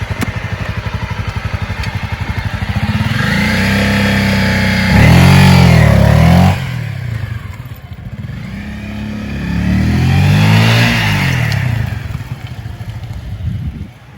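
A motorcycle engine revs hard for a launch, two loud rising surges with gear-like pitch sweeps, idling rumble between them, close and with no talk.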